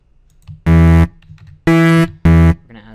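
A raspy bass synth preset in an electronic music production setup plays three loud, buzzy sustained notes, each roughly a half-second long, separated by short gaps, with nothing else heard.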